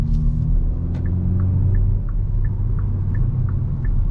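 Low, steady engine and exhaust rumble from a 2022 Hyundai i20 N with its 204 hp engine in N mode, a deep continuous drone with faint ticking above it and no voices.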